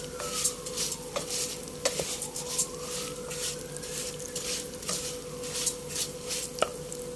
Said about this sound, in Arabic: هحط الشعرية هقلبها لما تاخد لون ذهبي